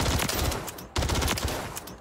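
Loud, rapid automatic gunfire from a Rival 38E in the video game Warzone, two sustained bursts separated by a brief pause, each a dense stream of shots.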